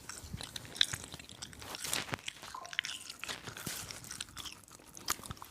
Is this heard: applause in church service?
no